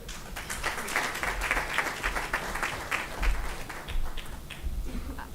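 Lecture audience applauding at a memorial lecture, a dense round of clapping from many hands that swells and stays full, with a few louder bursts near the middle and no talk over it.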